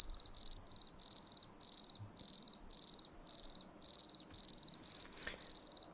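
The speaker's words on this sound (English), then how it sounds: "The cricket symphony was now rather muted" Crickets chirp at night in a steady rhythm. Regular bursts of rapid high trills repeat about every half second against a quiet, dark background.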